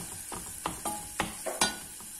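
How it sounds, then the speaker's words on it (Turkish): Tomato paste and garlic sautéing together in a pan for pizza sauce: a soft, close sizzle broken by five or six separate scrapes and stirs of a utensil against the pan. "Salça, sarımsak beraber güzelce kavruluyor."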